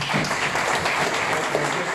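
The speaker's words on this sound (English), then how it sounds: "Can we applaud both Joel and Lois?" Audience applause at a political gathering in Uganda, a dense, steady wash of many hands clapping through the whole stretch, with faint voices mixed in underneath.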